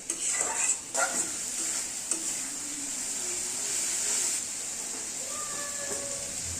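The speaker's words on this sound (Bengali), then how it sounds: "এখন আমরা মশলাটাকে কিছুক্ষণ কষিয়ে নেব, তেল ছাড়া পর্যন্ত" Spice paste fries in oil while being stirred for a Bengali turnip curry made with chicken feet and heads, giving a steady close sizzling hiss with a few stirring scrapes near the start.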